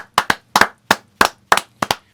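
Hands clapping in a slow, uneven rhythm, about ten sharp close claps mostly in pairs, loud and dry with brief silences between them.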